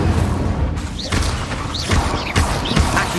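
The Incendio fire spell cast in Hogwarts Legacy, a dense whooshing, crackling burst of magical fire that recurs in a few loud surges over a continuous roaring bed, with no talk.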